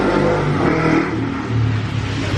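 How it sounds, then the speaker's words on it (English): A motorcycle engine revs and whirs steadily close by as it passes, its pitch shifting slightly as it moves, with no talking. "we're gonna listen to a motorcycle"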